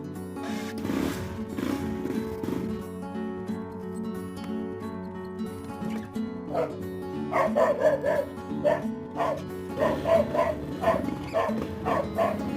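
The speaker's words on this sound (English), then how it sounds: "the dog goes crazy whenever we go cruising" A dog barks repeatedly in short yips and woofs, fairly close, over a steady motorcycle engine hum and background noise.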